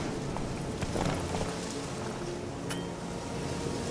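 Horse hooves thud in The Witcher 3 as a rider gallops, a steady rhythmic clatter of hoofbeats under a broad wash of wind and ambient noise, fairly close and continuous.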